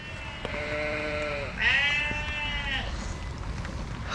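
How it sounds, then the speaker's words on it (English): Sheep bleat in the open countryside of hilly English farmland, with one long, wavering call followed by a second, louder overlapping bleat at moderate distance over soft background noise. "Can you hear all the sheep?"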